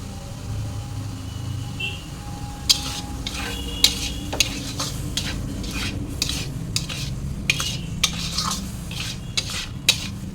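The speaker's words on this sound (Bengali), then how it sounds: "গরম মশলা দিয়ে নাড়াচাড়া করে নামিয়ে নেব" Taro greens being stirred with garam masala in a pan, with a steady low sizzle and repeated sharp scrapes and clinks of a spatula against the metal through the second half.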